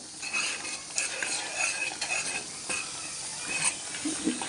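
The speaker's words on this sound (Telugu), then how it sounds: "పచ్చడి ఇలా తిప్పుకుంటూ ఉండాలి ఈ నూనె అంతా కలిసిపోవాలండి" Dried red chilli and yogurt chutney is stirred in hot oil in a pan, giving a steady close sizzle with a spoon scraping and clinking against the metal in short irregular strokes.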